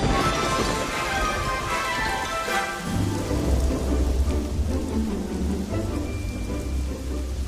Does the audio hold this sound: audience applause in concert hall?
no